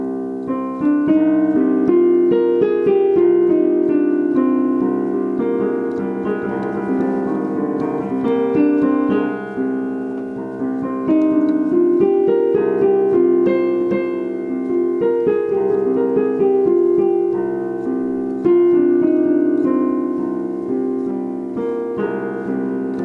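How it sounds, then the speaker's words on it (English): An instrument plays a minor scale, the notes ringing out one after another with a darker, melancholy color, and no voices. "Minor sounds like this."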